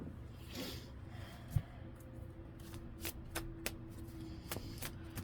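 Tarot cards are shuffled on a table, with soft riffling and sharp clicking card snaps spread irregularly across a quiet room, no talking over it.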